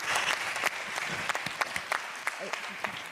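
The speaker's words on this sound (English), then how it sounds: "You deserve a round of applause." Audience applause at a new lawyers induction ceremony, a steady wash of many hands clapping with sharper individual claps standing out, lasting about three seconds at moderate loudness.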